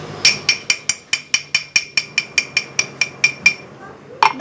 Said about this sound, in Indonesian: gelas berbunyi